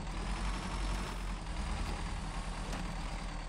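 A Toyota truck in SnowRunner strains up a mountain climb, its engine droning steadily and loudly with a deep rumble and no other sounds.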